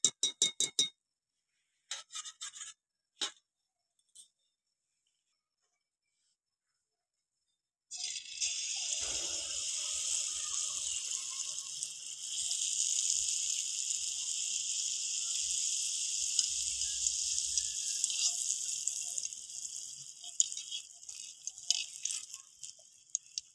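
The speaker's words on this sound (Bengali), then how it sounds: "এইভাবে সব পিঠেগুলো আমি ভেজে নেবো।" Malpua pitha, sweet batter fritters, frying in hot oil in a pan, a loud steady sizzle that starts abruptly after a few scattered clinks and quiet gaps, then crackles on continuously close up.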